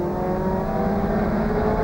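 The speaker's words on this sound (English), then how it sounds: "You'll hear the car get back to third gear." A race car at the 1996 Gold Coast Indy Carnival celebrity race drops back to third gear, its engine a loud, steady, close-up drone with no break through the whole stretch.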